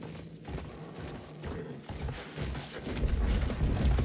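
A horse clip-clops in the game Battlefield 1, a run of rhythmic hoof thuds that grows louder and closer, with mechanical clanking beneath and no speech.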